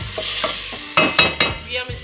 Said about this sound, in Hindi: उसको अच्छी तरह 2-3 दफ़ा चम्मच चला के थोड़ा सा मसाला भून के